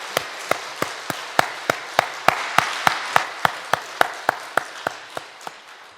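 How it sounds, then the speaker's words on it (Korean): A congregation at a Sunday worship service claps in unison to give glory to God. The sharp, evenly spaced beats come about twice per second, then soften and thin out toward the end. "우리 하나님께 영광의 박수를 올려드립시다."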